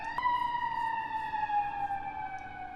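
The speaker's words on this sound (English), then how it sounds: "Had to wait for the sirens to go away." An emergency vehicle siren sweeps past, a loud steady wail with a slowly falling pitch, heard alone with no talking.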